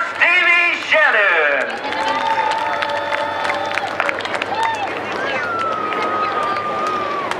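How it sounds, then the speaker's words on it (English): A crowd at a speedway steel block late model feature applauds the race winner, with steady clapping and cheering continuing under a loud announcer's voice. "A big round of applause for Stevie Shannon."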